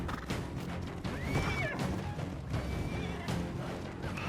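Horses whinny over a busy, rumbling battle din in the game Ark: Survival Ascended, with cavalry hoofbeats and clashing, several neighs rising above the continuous chaotic background.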